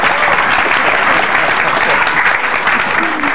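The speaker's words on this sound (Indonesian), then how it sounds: "Boleh tepuk tangan untuk Awe." A studio audience at a stand-up comedy battle show claps steadily for a comedian, dense sustained applause filling the room without a break.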